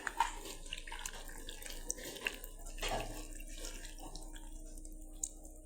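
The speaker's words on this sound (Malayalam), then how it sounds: "അപ്പോൾ ഗൈസ് നമുക്ക് ഇതിനകത്തേക്ക് പാൽ ഒഴിക്കാം." Milk pours into a bowl of chocos fruit salad as a faint, soft liquid stream, broken by a few small splashes and clinks, quiet and with no talking.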